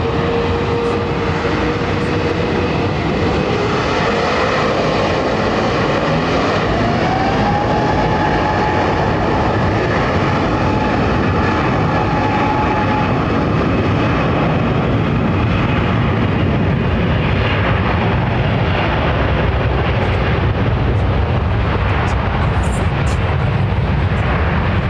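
Boeing 787-10 Dreamliner at London Heathrow, a long steady roar of jet engines with a rising whine partway through and a broad rumble swelling and holding loud throughout, no voices.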